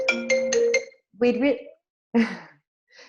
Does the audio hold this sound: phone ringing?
yes